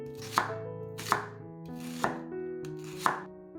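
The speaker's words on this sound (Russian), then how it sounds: "1 луковицу нарезаем полукольцами." Four sharp knife chops slicing an onion into half rings on a cutting board, evenly spaced, close and clear with no talking.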